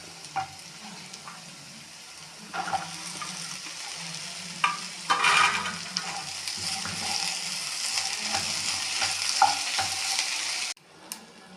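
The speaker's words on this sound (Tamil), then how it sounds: "வெங்காயம் பொன்னிறமாக வதங்கியவுடன் வெண்டைக்காயை தட்டி வதக்க வேண்டும்" Sliced okra sautéing with golden onions in a pan, a continuous sizzle broken by repeated scraping and stirring strokes, close and moderately loud, cutting off abruptly near the end.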